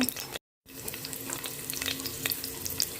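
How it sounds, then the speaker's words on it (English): Pork sizzling in a small amount of oil in a pan, a steady bright frying hiss with crackles, heard close, briefly cutting out near the start before resuming. "I will allow this to get golden brown, then I will add the sugar in here to brown my pork"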